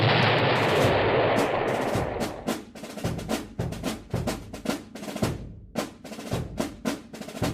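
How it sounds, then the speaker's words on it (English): Small arms volleys in a tabletop battle dramatization aimed at a British jeep: a loud sustained roar of fire that gives way to a steady string of distinct, sharp rifle shots spaced evenly. "unleash a storm of hot lead at the British jeep"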